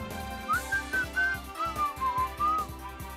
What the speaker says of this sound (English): I forgot how bad whistling sounds on a microphone